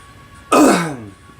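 A single harsh throat clearing from someone with a slight cold, close and loud, one short rasping burst that trails off quickly.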